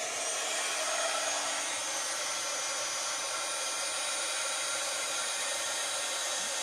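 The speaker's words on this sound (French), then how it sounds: "je vais utiliser mon pistolet à air chaud" A heat gun blows hot air with a steady, loud rushing hiss that stays even throughout.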